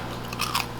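A bite into a crispy peppered bacon slice gives a short, close crunch with two quick crackling bursts over a faint steady hum.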